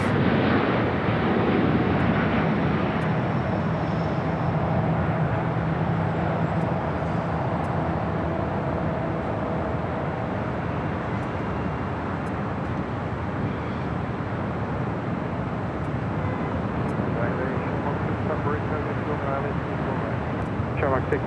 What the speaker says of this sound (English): SAS rolling down the 25 right as we swing it over to the south